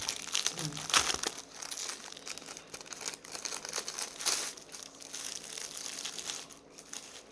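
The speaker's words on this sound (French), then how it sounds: "Ceci dans un plastique, c'est toujours pareil. Je n'arrive jamais à ouvrir les plastiques." Plastic wrapping crinkles and crackles at close range while someone struggles to open it, making a continuous rustle with louder bursts that goes on throughout.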